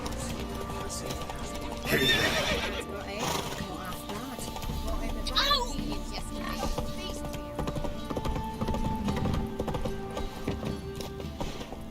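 A horse in The Witcher 3 video game whinnies loudly while its hooves clip-clop at a steady pace beneath music and ambient game sound.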